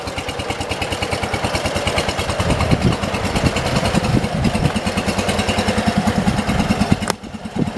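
A 1977 John Deere 212 lawn tractor engine runs steadily while the tractor is driven, with a close, loud, rough and pulsing idle-to-working drone that carries on for several seconds before dropping abruptly near the end.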